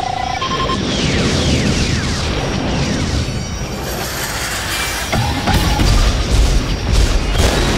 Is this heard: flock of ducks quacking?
no